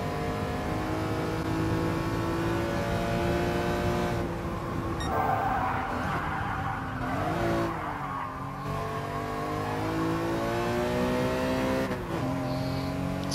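A BMW E46 M3 in the Gran Turismo Sport racing game holds a loud, steady engine drone that rises and falls through gear changes, with tire squeal as it corners, alone and close throughout.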